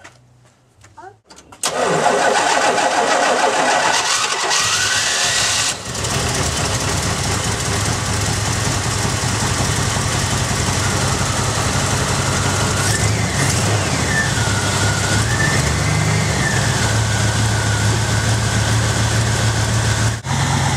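A 1976 Chevy C30 dually truck engine with a faulty choke pull-off cranks and catches, then idles steadily for about twenty seconds while warming up, loud and close, with a rising whine partway through and no talk.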